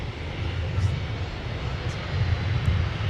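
A fixed-wing aircraft powers up for takeoff on runway 17 at Minneapolis–Saint Paul airport, a steady broad engine roar with heavy low rumble, continuous and fairly loud across the whole stretch.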